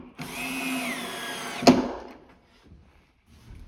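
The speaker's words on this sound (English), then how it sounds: "screwing from the bracket, the side arm brackets, up into the armrest" A power drill screws an armrest bracket up into a side arm: a brief steady whir close by, ending in a sharp clack as the screw seats, then quiet handling noises.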